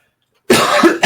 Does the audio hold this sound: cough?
yes